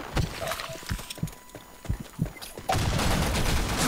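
Pistol gunfire in a first-person shooter video game: several sharp single shots spaced irregularly over a few seconds, followed by a louder, steady burst of noisy action sound.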